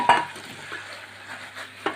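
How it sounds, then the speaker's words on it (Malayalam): A spoon stirs fried potato pieces in a pan, with a scraping swirl at the start and another near the end over a faint, steady simmer. "നന്നായിട്ട് മിക്സ് ചെയ്തിടുക"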